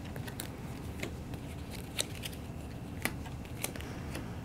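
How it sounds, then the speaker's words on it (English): Playing cards from the Tiny Epic Vikings board game being dealt onto a table one by one, making soft irregular snaps and light flicks, close and quiet, with no talking. "We'll put out 7 cards down here."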